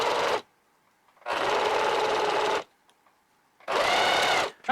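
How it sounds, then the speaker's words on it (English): A sewing machine runs a zigzag stitch through stretchy knit fabric for baby booties in three loud, steady bursts of about one to one and a half seconds each, separated by near-silent pauses. "I'm going to do the same zigzag stitch, especially on this knit fabric"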